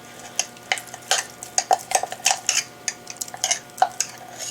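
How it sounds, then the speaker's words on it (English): Sourdough starter and water being stirred in a container, heard as a quick, irregular run of close clinking and scraping strokes that keep going for several seconds without any talking. "So just give that a nice stir, and we'll just move on to day 3."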